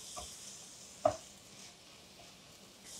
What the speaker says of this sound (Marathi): हे सुके मसाले 2 मिनिटं छान परतून घेऊयात